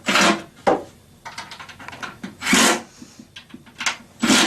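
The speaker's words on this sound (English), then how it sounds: "And snug up all the left and right screws." Screws being snugged up on a wall cabinet during assembly make repeated short scraping, rasping turns in separate close bursts, with brief pauses between them and no speech.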